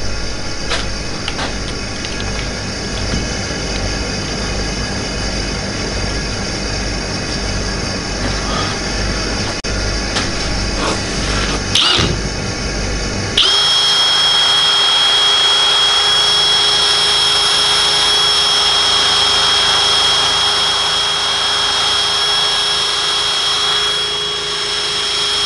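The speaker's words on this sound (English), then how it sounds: "I've just polished up the valves quickly in a drill." An electric drill spins a car engine valve for polishing during an A-Series cylinder head rebuild, giving a loud, steady mechanical whir. Partway through, the whir changes to a smoother, higher-pitched tone that holds to the end.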